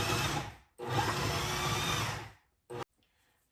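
Food processor pulsing cubed butter into a flour mixture for maple oat scones: two loud motor bursts of a second or two each, the second longer, with a brief final blip and near silence between.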